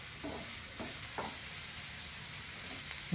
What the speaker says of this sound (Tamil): நாலு வெங்காயம் பொடியாக அரிஞ்சி வச்சது, அதையும் சேர்த்து வதக்கலாம்.